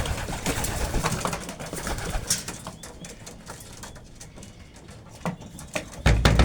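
Racing pigeons burst out of a small loft as the door opens, a loud rush of flapping wings and scuffling with sharp clatters, close by and fading slightly before a heavier thump at the end.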